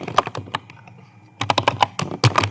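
Someone types a kitchen name on a computer keyboard in bursts of quick, close key clicks, with a short pause in the middle before the tapping resumes.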